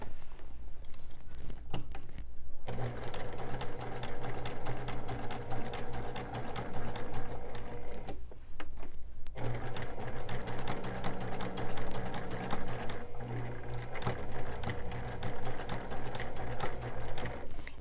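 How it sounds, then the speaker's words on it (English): A sewing machine fitted with a walking foot stitches quilted curved arches, a fast steady needle rattle running nearly continuously, with a few brief pauses between stretches of stitching, close and clear with no talking. "I'm just gonna stitch right along that ditch to get to the next"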